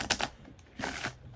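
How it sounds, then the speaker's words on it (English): An oracle card deck ripple shuffled by hand, two quick flurries of crisp card flutter and riffle close up, separated by a short pause. "apparently they do a ripple shuffle on this."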